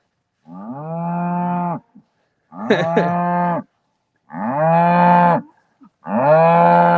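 Cows on a farm pasture give four long, loud moos one after another, each lasting over a second, separated by brief pauses, close to the listener and with no talking.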